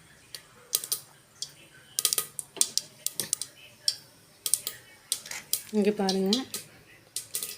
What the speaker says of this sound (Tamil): கடுகு பொரியுது பாருங்கள்.